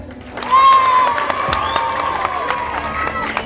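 An audience at a stage show applauds and cheers throughout, a dense, loud wash of clapping with whistles and shouts rising over it.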